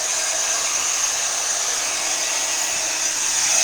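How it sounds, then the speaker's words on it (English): A heat gun blows hot air over a homemade shaker card, giving a steady, even broadband whoosh that holds at one level from start to finish, close and alone with no talking. "let me bring in the heat gun again"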